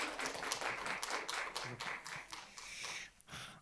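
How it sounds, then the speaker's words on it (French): Scattered clapping from a small audience at a French round-table discussion, quiet and uneven, individual claps audible, thinning out toward the end. "Donc Anaïs, qu'on peut applaudir."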